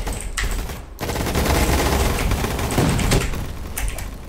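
Rapid gunfire crackles through a Roblox Gunfight Arena match, loud, dense bursts of shots running almost continuously after a brief gap, with a few sharper cracks toward the end.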